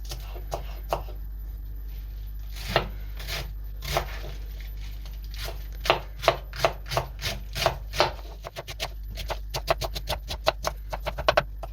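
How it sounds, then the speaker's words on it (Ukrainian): Young cabbage being chopped on a board with a knife, a run of crisp, evenly spaced cuts that quicken into a brisk rhythm, near and clear over a low steady hum. "Покришу капустку, капустка молоденька, подрібню її отак."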